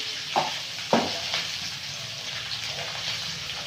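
Vegetables with panch phoron and turmeric fry in a pan, a loud continuous sizzle broken by a few scraping stirs near the start.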